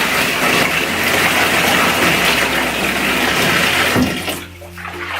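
Tap water gushes steadily into a bathtub of Tide detergent solution for stripping cloth diapers, a loud close rush that cuts off abruptly near the end and leaves a faint hum.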